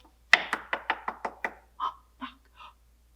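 A series of about seven quick, loud knocks on a door, followed by three softer, more spaced taps, heard alone with no talking during a read-aloud children's story.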